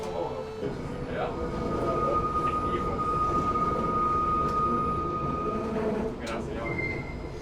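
A Belgian hybrid tram rolls along its tracks with a steady, close rumble and a sustained metallic wheel squeal that holds through most of the run.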